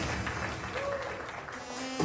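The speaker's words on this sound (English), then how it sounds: "Ladies and gentlemen, a big round of applause for the Groom's best friend tonight." Wedding guests clapping for the groom's best friend at a reception, a steady round of applause at moderate volume with a faint tonal sound running through it.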